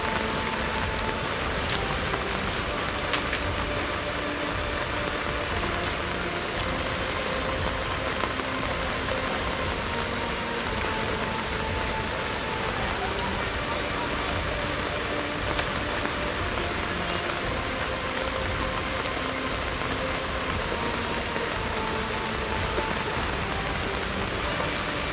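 Steady, dense rainfall pours down over the flooding Karmanasa river during the rainy season, a continuous hiss of drops close by with no voices.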